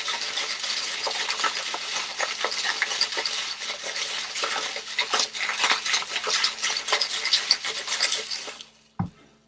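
A cocktail being shaken hard in a shaker, a dense, continuous rattling scrape like maracas that runs steadily for about eight seconds, close and loud, then stops abruptly with a final soft knock.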